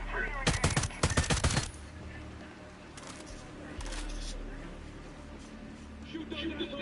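Bursts of automatic rifle fire in Ghost Recon Breakpoint, two rapid loud volleys then scattered distant shots, with voices shouting over the combat.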